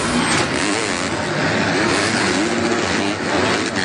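Red Bull KTM supercross motorcycles race at Daytona, with a loud continuous engine roar and revving from several bikes close by, over crowd and stadium noise.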